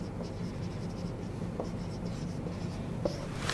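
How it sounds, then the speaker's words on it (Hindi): Pen writing by hand on paper while a math exercise on matrices is worked, a steady soft scratching that runs throughout at close range, with no voice over it. "तो इसके नीचे जस्ट नॉट पॉसिबल लिखते हैं आप।"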